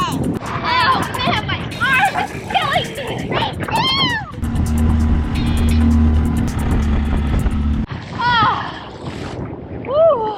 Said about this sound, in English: This was our first time using the new Mercury engine for tubing, and it worked like a boss.